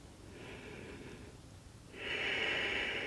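Slow breathing held through a yoga pose during a vinyasa session, a soft airy exhale first, a pause, then a louder, longer breath drawing through the nose, close and alone.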